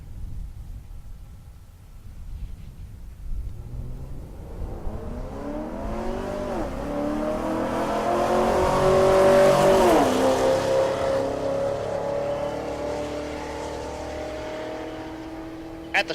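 Drag racing cars, a Camaro and a Challenger, launch at Tulsa Raceway Park during Race Week, engines building from a low rumble to a loud, rising roar that peaks and then holds, heard from near the strip.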